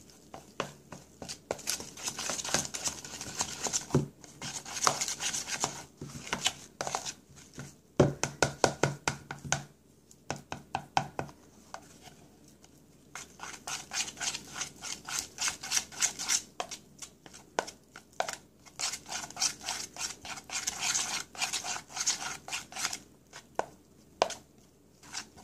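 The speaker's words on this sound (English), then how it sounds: "So we keep stirring," Henna paste being stirred and mashed by hand with lemon juice into a thick, mashed-potato consistency, giving repeated close, wet squelching and tapping strokes in uneven bursts with short pauses.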